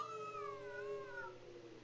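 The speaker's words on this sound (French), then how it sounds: "C'est un chat." A cat meows in the horror video game The Crooked Man, one long drawn-out wavering cry that slides down in pitch, fairly close and clear with no talking over it.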